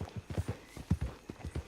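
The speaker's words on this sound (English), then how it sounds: "Just get on the horse when you're good and ready" Horse hooves clip-clopping at a walking pace in Red Dead Redemption 2, a close, uneven rhythm of soft thuds heard on their own.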